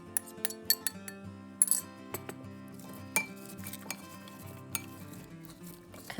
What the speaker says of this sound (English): Then you're going to add all of your prepared ingredients into a large bowl.